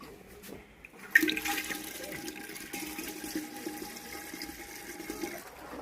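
Water runs and splashes into a cooking pot for khichuri in a home kitchen, with a sharp onset followed by a steady, faint trickling pour.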